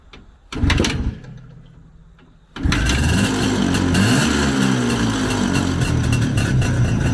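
A couple of sharp mechanical kick-start thumps, then the two-stroke engine of a 1978 IZH Jupiter-3 sidecar motorcycle sputters to life and settles into a loud, buzzing, rapid idle nearby.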